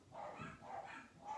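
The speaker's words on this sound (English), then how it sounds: "that's my dogs barking in the background" Dogs barking in the background of a home, three soft, muffled barks evenly spaced in quick succession, distant and faint.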